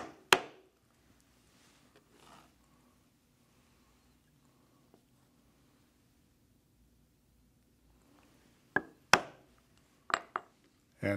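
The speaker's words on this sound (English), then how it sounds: "Next, I will use the round corner punch" A round corner punch cuts the ends of a leather strap, giving a few sharp, faint knocks early on and then a quick cluster of crisp punch strikes near the end, with near silence between.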